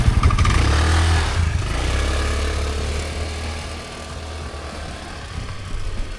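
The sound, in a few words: moped scooter engine started and running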